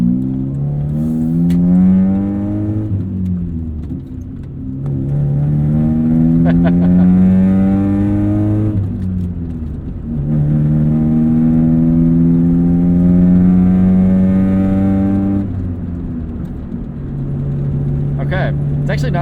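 A 1996 Saturn SC2 with glass pack exhaust and big blast pipes revs repeatedly, the engine note climbing and falling in long sweeps, loud and close, with voices talking over it.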